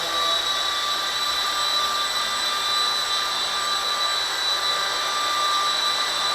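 A V913 RC helicopter fitted with a new motor and new tail motor hovers indoors near a wall, giving a steady, loud high-pitched whine with a strong tonal buzz that holds level throughout without any talk.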